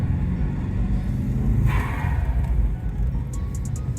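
A 1993 Subaru Legacy Turbo engine while driving on snowy roads, a loud, close, low rumble that holds steady, with a brief turbo-like whoosh midway through.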